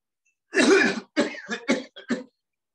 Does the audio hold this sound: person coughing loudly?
yes